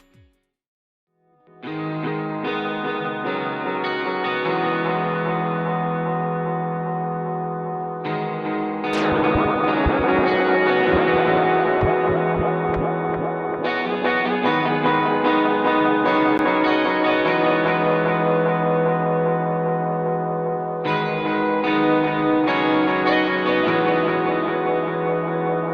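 Electric guitar run through the Audiority PlexiTape analog tape echo plugin plays repeating chord phrases with a warm, chorused wash of echo and repeats trailing behind, steady and loud for about twenty-four seconds, no talking.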